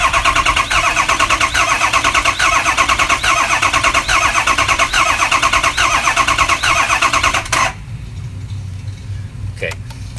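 A 2004 car engine cranks in a rapid, rhythmic chatter when started by remote start, then catches and drops to a lower, steady idle. Voices speak faintly over the engine near the end.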